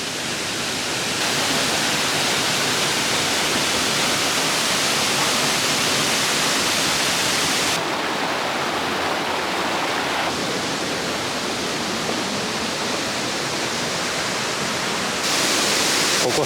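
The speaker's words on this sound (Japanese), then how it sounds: "ここまで早い滝初めてかも。" A fast, powerful waterfall in a Yamagata hot spring town roars as a loud, continuous rushing wash of water, steady from start to finish with no voices over it.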